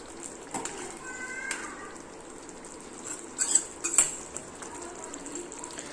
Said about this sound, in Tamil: முட்டையை சேர்த்துட்டு இதை ஒரு தடவை வந்து என்ன மிக்ஸ் பண்ணிக்கோங்க.